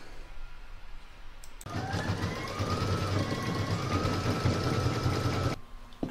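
Embroidery machine stitching the central wording onto a fabric heart-shaped bottle tag, a steady fast mechanical whir with rapid needle chatter running continuously for several seconds before stopping.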